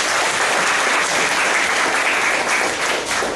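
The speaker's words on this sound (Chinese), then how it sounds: "然后大家掌声欢迎一下" An audience applauds to welcome the first speaker at a student-movement talk. The clapping is dense, steady and loud, and it fills the whole stretch without a break.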